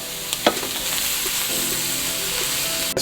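Roux mixed with shrimp stock and shrimp sauce sizzles steadily in a pan while being stirred, a loud continuous fry with a few scraping knocks from the utensil, close by and without talk.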